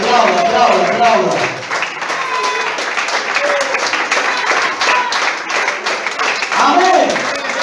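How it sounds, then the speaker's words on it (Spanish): A church congregation claps together during a Spanish-language worship service, loud and continuous, mixed with voices and shouts of praise above the clapping. "Aplauda, aplauda a Cristo"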